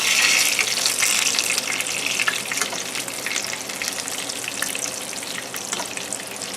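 Steady, loud crackling sizzle of zucchini sticks frying in hot oil, continuous with no voices.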